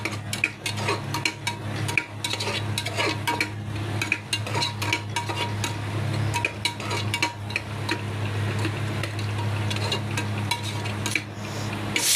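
Spoon stirring a biryani masala mixture of green and red chili, turmeric and spices in a metal pot, steady clinking and scraping over a low hum, close and continuous.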